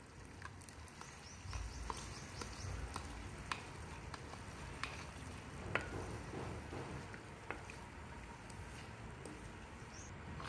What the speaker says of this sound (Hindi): हुण मैं दही विच मिक्स कीता होया बिरयानी मसाला पावांगी।